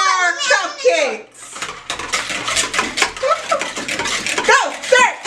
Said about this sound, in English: We gotta stir the eggs so we got good eggs in our cupcakes.